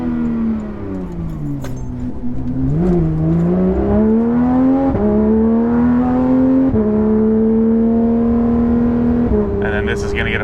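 Porsche GT3 RS with an AWE exhaust heard from inside the cabin, the engine note loud and steady, rising through the revs with a few gear-change dips and a brief jingle of keys near the end.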